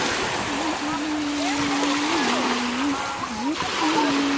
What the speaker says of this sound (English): Let me put more water in it.